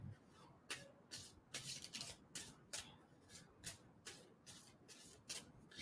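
Tarot cards being shuffled by hand, a quiet close-up series of soft riffling bursts in an irregular rhythm, with no talking.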